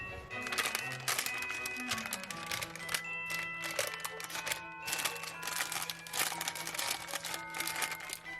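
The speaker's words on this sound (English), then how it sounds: "You might have to straighten up your parchment a little bit because it's going to want to collapse" Parchment paper crinkles and crackles in a pan as it is pressed and straightened, a continuous close papery rustle with bursts of sharper crinkling throughout.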